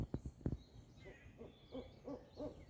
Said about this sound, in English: I'm just chilling here under an owl.